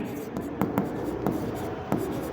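Pen writing on paper while solving partnership final accounts: a steady scratching with several sharper strokes, close and fairly loud, no voices.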